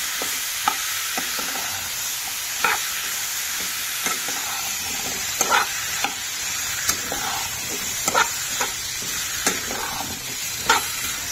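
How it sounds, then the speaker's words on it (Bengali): A chicken stew is stirred in a frying pan, with a continuous sizzle and repeated scraping clicks from the spoon scattered irregularly throughout, close and fairly loud. "এবার এটাকে ভালো করে নেবো হালকা হাতে মিক্স"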